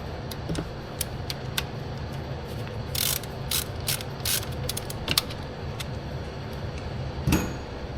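A ratchet backs out 8 mm bolts on a Nissan Juke 1.6 turbo engine, its pawl clicking in quick close bursts broken by short pauses and a few sharper metallic knocks.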